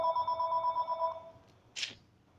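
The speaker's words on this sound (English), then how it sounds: "Phone is ringing and I'm not at my house." A telephone bell rings in one steady trilling burst indoors, then stops, followed by a brief soft knock in a quiet room.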